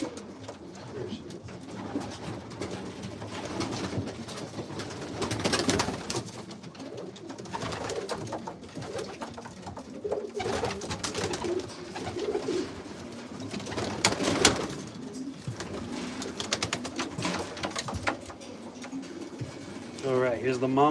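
Pigeons coo softly in a breeding loft, low murmuring calls coming in bursts under nearby talk, with wing flutters and shuffling movement around them.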